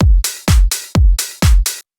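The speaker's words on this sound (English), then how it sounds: "second clap" Two crisp progressive house drum-machine clap hits sound alone, each a sharp bright burst preceded by a low thump, evenly spaced with short gaps.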